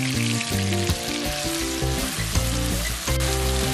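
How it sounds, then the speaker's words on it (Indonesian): Ground spice paste and tomato pieces sautéing in a pan give a steady, loud sizzle with crackling oil and clattering stirring throughout, no voices. "Kemudian tumis sampai wangi."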